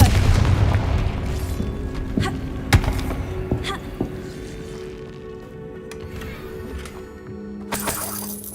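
The Confringo spell blasting in a Harry Potter video game, a deep booming explosion with shattering debris, loud at first then decaying into scattered cracks and rumbling echoes.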